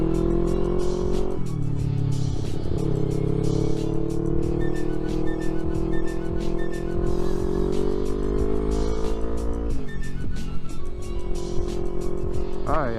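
Car engine pulling steadily through roundabouts, with rising and falling harmonic revs and a downshift near the end; the engine sound runs loud and close throughout.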